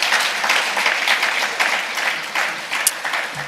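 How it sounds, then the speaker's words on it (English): An audience at a corporate capital markets day gives a steady round of applause, dense clapping that holds fairly even and close throughout. "Another round of applause for her, please."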